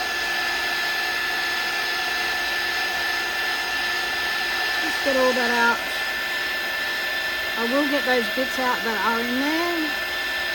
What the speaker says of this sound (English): hit this with the heat gun.